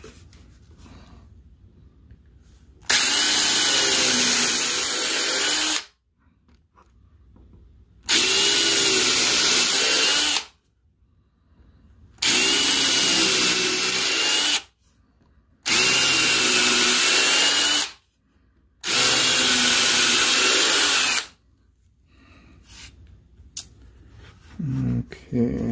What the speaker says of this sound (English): pre-drill holes for the inside cuts